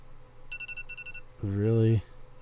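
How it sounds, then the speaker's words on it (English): A cell phone alarm sounds as a quick run of bright electronic beeps, then a louder, buzzy tone that holds for about half a second and cuts off. "I forgot to shut all my alarms off."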